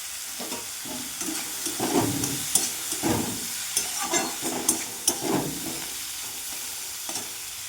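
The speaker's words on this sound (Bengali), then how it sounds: "উপর থেকে নুন দিয়ে দেবো দিয়ে ভালো করে ভাজবো আর হলুদ গুঁড়ো দিয়ে দিলাম" Pieces of chitol fish fry in a pan with salt and turmeric, giving a soft continuous sizzle. Intermittent stirring scrapes and spatters rise and fall over it at close range.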